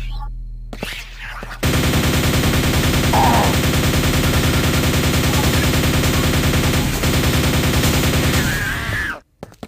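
A rapid-fire nail-shooting weapon in Quake 2 Ground Zero: a loud, continuous mechanical stream of shots lasting several seconds, starting abruptly and cutting off at the end.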